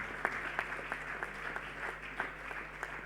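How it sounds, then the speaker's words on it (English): A big round of applause from the audience at an awards event, a dense, even wash of clapping that sounds somewhat distant and steady throughout. "Can I have a pretty huge round of applause on this one?"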